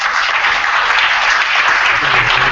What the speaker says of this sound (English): I hope you give applause to yourselves